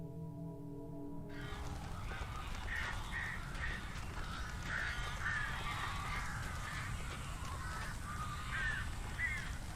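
Crows cawing in the Alan Wake video game, repeated harsh calls over a steady low ambient drone, moderately distant and fairly faint.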